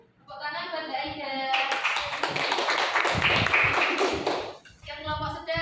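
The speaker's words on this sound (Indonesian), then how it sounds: "Tepuk tangan buat Mbak Aida." Classroom applause for a student during a microteaching lesson, a dense burst of many hands clapping for a few seconds, framed by a voice speaking before and after.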